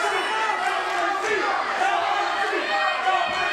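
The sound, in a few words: crowd chanting "no mercy" in wrestling video game Super Shogun Wrestling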